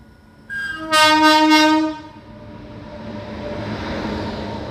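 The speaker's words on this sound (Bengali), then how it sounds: "ব্যান্ডেল লোকাল ছাড়ার টাইম হয়ে গেছে।" A Bandel local train at Naihati Junction railway station sounds one loud, steady horn blast for about a second, then the rumble of the train moving off grows and holds.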